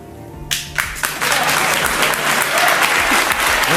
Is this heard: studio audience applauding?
yes